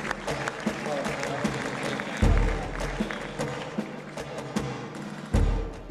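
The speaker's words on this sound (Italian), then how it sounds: "I giovani applaudirono, stupiti della forza del nuovo che stava avanzando." A young audience applauds after a political speech, a sustained crowd clapping at moderate distance with occasional heavier thumps cutting through.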